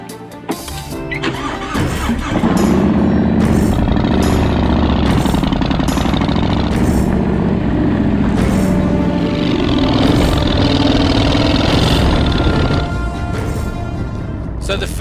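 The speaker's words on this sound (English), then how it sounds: "They still have that low rumble, that beautiful low rumble that the short shots have" Motorcycle fitted with Vance and Hines Shortshots pipes and Super Q baffles running on a ride, a steady loud low rumbling engine drone that holds for most of the stretch with wind noise over it.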